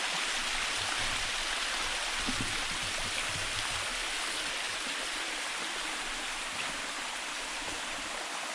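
A full stream in a deep forest rushes steadily, with a dense, even wash of flowing water close by and no voices.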